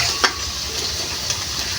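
Ground spices (cumin powder, garam masala, meat masala and chili powder) sizzle in hot oil in a pan while a spoon stirs them, giving a steady fry with a brief sharp scrape near the start.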